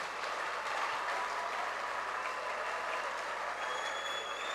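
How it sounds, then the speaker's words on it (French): Church congregation during a Sunday service applauding for the mothers, a steady dense wash of clapping that holds at an even level from start to finish. "Acclamez pour les mamans"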